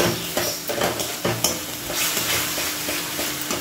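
Panch phoron and a homemade spice paste sizzle and fry in hot oil in a kadai, a steady crackling hiss broken by occasional stirring scrapes, close and fairly loud with no talking.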